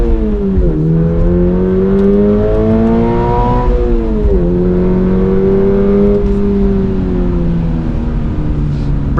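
A 2024 Subaru BRZ tS engine pulls hard on a wet Road America lap, its tone climbing through the revs, dropping at a gear change, then rising again, loud and close from inside the car.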